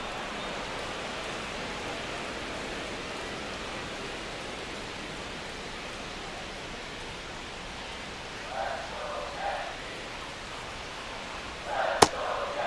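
Steady broadband hiss of rain falling over a baseball stadium in MLB The Show 26, a continuous even wash that stays constant throughout, with a few faint muffled bumps near the end and a sharp click just before it closes.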